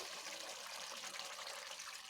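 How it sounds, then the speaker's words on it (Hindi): Steady splashing water poured continuously into a cooking pot of chicken, a bright rushing stream with no voices, close and fairly loud throughout. "अब हम इसमें और पानी ऐड करेंगे।"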